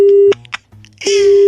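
A telephone busy tone after a call is hung up: a loud steady beep, a short gap with brief noisy clicks and a faint voice, then the tone resumes and holds.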